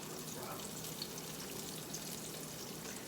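Southern-style fried green tomatoes sizzle in a pan, a soft, steady crackle of hot oil heard faint and continuous with no talking.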